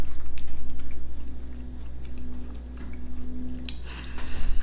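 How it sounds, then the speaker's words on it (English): Someone chews pieces of coconut from a Turkish snack close to the mic, rhythmic mouth sounds with soft crunches repeating steadily, growing louder near the end. "I'm chewing on those pieces of coconut"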